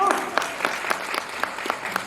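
A small audience at a live talk event in Kenya claps in a loose, slightly rhythmic pattern, with distinct individual claps standing out above a soft background of hands.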